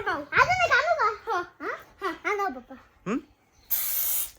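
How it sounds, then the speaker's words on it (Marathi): A Holi colour spray can lets out a short, loud hiss right at the end, after a child babbles and giggles close by. "हे बघा हा स्प्रे आहे"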